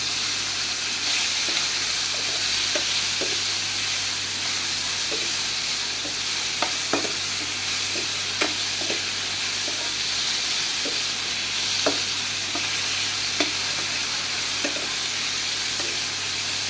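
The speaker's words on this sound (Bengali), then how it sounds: "ভালো করে পাটা ভেজে নিতে হবে" Chicken feet sizzle steadily in hot oil in a pan for a mutton-style bhuna, a constant frying hiss broken by occasional sharp pops and spatters, with intermittent scraping as the pieces are stirred.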